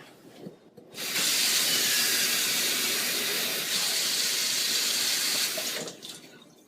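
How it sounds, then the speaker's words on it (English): Water pours steadily into a coffee maker in a loud, hissing stream for several seconds, then tapers off, with faint clatter before and after. "Okay, I'm just going to pour the water in."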